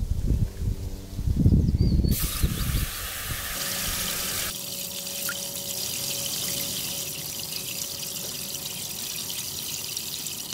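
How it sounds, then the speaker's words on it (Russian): Water splashes and trickles steadily from a small pump-driven garden pond fountain, a continuous bright wash of spray with a brief louder gush near the start. "И наш фонтан готов"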